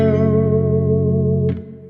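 A sustained, richly harmonic guitar chord washed in reverb from a Chroma Console pedal set to a 50% wet mix, ringing steadily then thinning as a brief higher swell passes through near the end.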